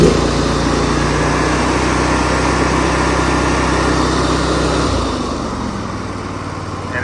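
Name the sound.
small engine running at throttle advance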